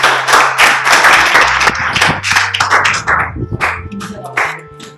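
A university class applauds after a student presentation, with dense overlapping hand claps sustained throughout, moderately loud and close, and a few voices mixed in.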